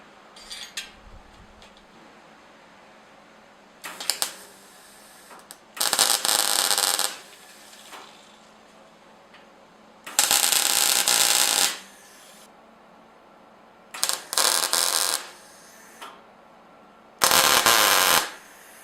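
Tack welding steel frames for a workbench table: short bursts of loud, crackling arc buzz, each lasting about one to two seconds, separated by quiet pauses, with several bursts in a row.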